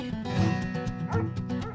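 Two family pet dogs yipping and whimpering in short bursts, close and fairly loud, with layered tonal cries over a steady background, no talk.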